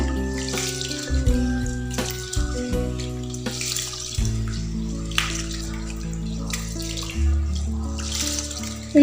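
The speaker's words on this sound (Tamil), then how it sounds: "அரிசியை நல்லா கழுவி எடுத்துகிட்டு வந்துடலாம்" Water splashing and running as rice is swished and rinsed, with faint clinks and trickles over a steady background tone.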